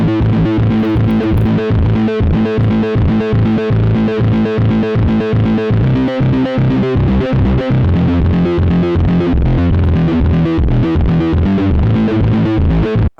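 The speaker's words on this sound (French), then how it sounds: "Crush Station. Oui, parce qu'il n'y a pas que des reverbs et des delays, il y a aussi des distos, des trucs un peu violents" An Eventide H9 pedal's Crush Station distortion effect churns out a loud, continuous, gritty and heavily saturated tone with a fast chopping pulse that runs without pause.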